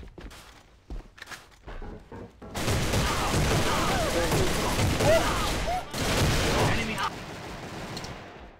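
An AK-12 rifle in Alliance of Valiant Arms fires in loud, sustained automatic bursts after a few scattered quieter shots, briefly pausing once before the firing resumes and tapers off.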